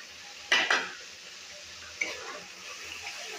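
Onions and paneer are stirred in a pan with a utensil, making two bright scraping clatters close together, then a softer clink, over a low background.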